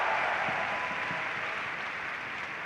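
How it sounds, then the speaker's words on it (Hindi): An audience at a Forever Living Products success day event in Delhi applauds, a steady wash of clapping from a crowd that stays fairly even and fades slightly over a few seconds. "जिनके लिए एक बार जोरदार तालियां बजा दीजिए"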